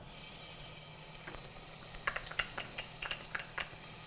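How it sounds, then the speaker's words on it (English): Onions for lentil soup sizzle on a hot stove with a constant soft hiss, as light clicks and taps from stirring come through in the last half. "So we're gonna start with sauteing our onions"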